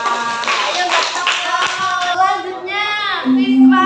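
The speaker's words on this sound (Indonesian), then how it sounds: "Tepuk tangan dulu untuk kelompok 4" A classroom group claps for group 4, a dense patter of many hands close by, with children's voices chattering over and around the clapping.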